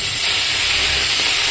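Pabda fish hit hot oil, throwing up a loud, close, unbroken hiss of frying that holds steady for a brief moment.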